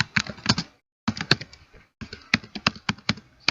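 Code being typed on a computer keyboard into a Notepad file, in quick bursts of crisp clicking keystrokes separated by short pauses, close and alone.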